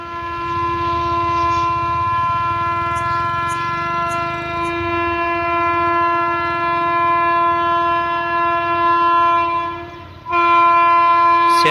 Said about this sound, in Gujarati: ફૂલ હોર્ન મારે છે.